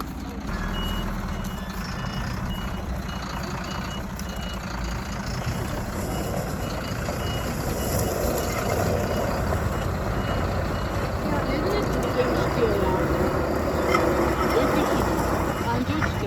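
A truck reverses at a caravan campsite in Yalıçiftlik Gerenkuyu, its repeated reversing beeps sounding over a rumbling engine while people talk nearby throughout.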